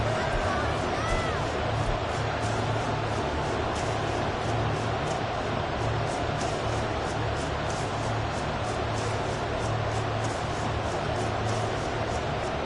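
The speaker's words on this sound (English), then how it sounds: "This crowd doing all they can." Football stadium crowd cheering late in the fourth quarter of a close one-score game against the Titans, a dense, steady roar throughout with no break, loud and continuous.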